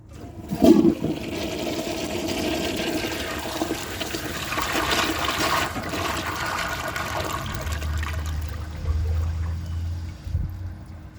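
A vintage 1976 Crane Whirlton toilet flushes with its handle held down for about four seconds. A sharp handle clunk opens a loud, close rush of water that swirls and drains, then settles into a lower refilling gurgle, with no voices.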